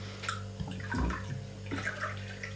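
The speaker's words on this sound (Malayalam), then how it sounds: "ദാ ഇതിലേക്ക് ഞാൻ അല്പം സോഡ കൂടി അങ്ങ് ഒഴിക്കുകയാണ്" Soda pours in a brief splashing stream into a pineapple rum drink, close and fairly quiet.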